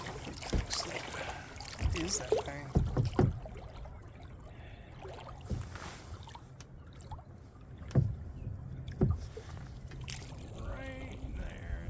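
A boat pushing something passes on a creek, a low steady engine rumble on the water with small splashes and wind noise while people talk nearby.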